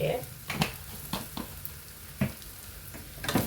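Spices for a Kerala-style chicken curry, including coriander powder, frying in a pan: soft continuous sizzling broken by several sharp stirring scrapes and clatters, with a voice speaking intermittently over the cooking.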